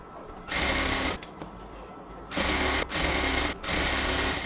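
A sewing machine stitches over elastic on cotton ladies' pants in three whirring bursts, each a steady fast motor drone, with short pauses between them.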